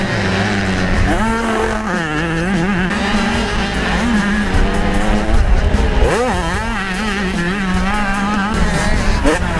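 Motocross dirt bikes, including a 2-stroke 250, racing in a 125A moto, their engines revving loudly and continuously with rising and falling pitch as several machines pass close by.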